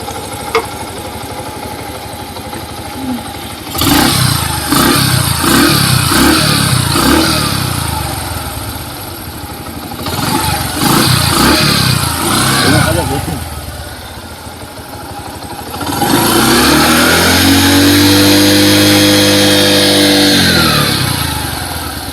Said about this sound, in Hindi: अभी देखिए हमने गाड़ी को स्टार्ट किया है।